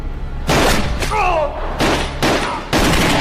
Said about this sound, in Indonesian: tiba-tiba tembakan Billy datang yang berhasil mengenai bahu dan kakinya